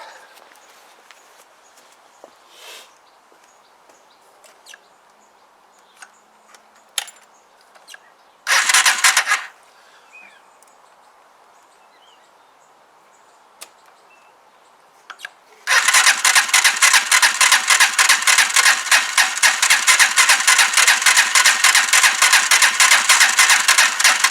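Huoniao HN125 motorcycle, likely lacking spark, cranks close by: quiet handling noises, then a short burst of starter cranking, then a long loud rhythmic churning that never settles into a running idle.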